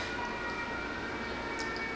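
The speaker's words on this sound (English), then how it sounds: "there's like sirens going off. We live in the city, so it's crazy." City sirens wail through an urban neighbourhood, a sustained tonal siren sitting steadily over dense background traffic noise, moderately loud and continuous with no speech.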